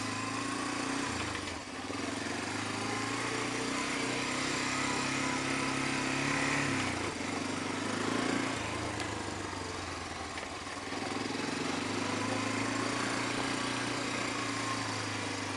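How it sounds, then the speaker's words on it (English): A 1985 Honda FourTrax 250 ATV engine runs continuously nearby with a steady, buzzing small-engine drone that rises and dips slightly in pitch, heard alone throughout. "Engine runs good."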